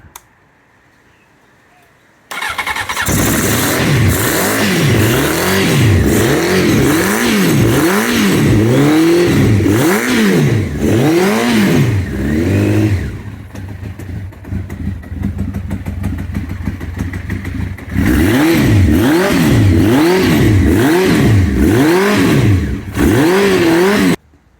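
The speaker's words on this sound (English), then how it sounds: "let's see if she'll start after 18 years" A Honda CBR900RR Fireblade motorcycle engine, left unused for 18 years, cranks and catches, then revs loudly in repeated rising and falling bursts, drops to a rough uneven run, and surges into more revving close up.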